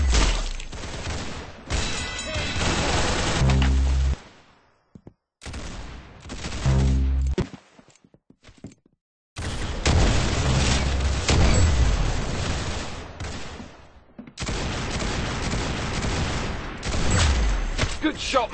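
Rapid bursts of gunfire in the Roblox Arsenal game, loud and dense, broken by brief gaps of silence between volleys, with booming shots layered through the rounds.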